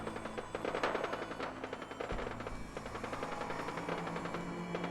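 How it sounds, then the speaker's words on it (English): Gunfire in Fallout 4, distant bursts of rapid shots from several guns firing in the game world, faint and layered over a low steady hum. "we can obviously hear gunfire"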